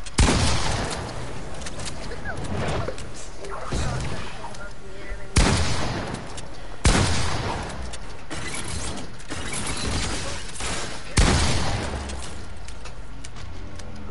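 Gunfire in a shooter video game comes as several sharp, loud shots and bursts with mechanical clatter between them, heard up close amid steady game noise.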